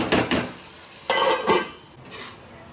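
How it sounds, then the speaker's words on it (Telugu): A lid clatters onto a cooking pot of Andhra-style chicken curry with coconut gravy, with two pairs of metallic knocks and scrapes up close, then a softer clink as it settles. "మూత పెట్టేసుకోండి"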